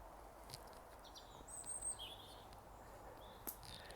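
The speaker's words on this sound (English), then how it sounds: "the bird song that I'm hearing now isn't an alarm" Birds sing in a forest, a few high, thin calls and short chirps drifting at moderate distance over a quiet, steady background hiss.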